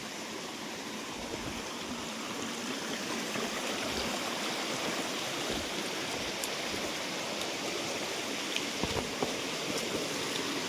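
A hidden waterfall in the Koraput forest rushes steadily, a continuous broad roar of falling water with faint splashing accents and no voices.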